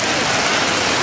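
Heavy rain in a Benidorm thunderstorm, a loud, dense, unbroken hiss of downpour close by, with no voices over it.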